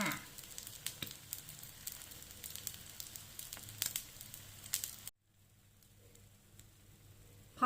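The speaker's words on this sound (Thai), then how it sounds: "ทอดต่อจนสุกเหลืองกรอบได้ที่ตามที่ต้องการเลยนะคะ" Quail eggs deep-fry in oil over low heat until golden and crisp, giving a soft, steady sizzle with faint crackles close by that cuts off abruptly partway through, leaving quiet room noise.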